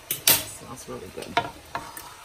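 Cabbage, broccoli and sausage are stirred in a pan, with a few scraping utensil strokes and clinks over a soft sizzle, close and moderately quiet.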